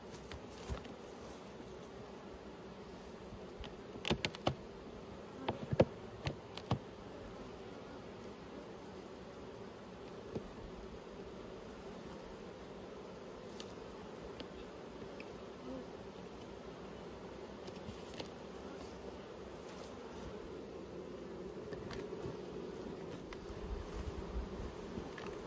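Honey bees buzzing around an open beehive, a steady low hum close by with scattered louder passes and occasional soft knocks from handling.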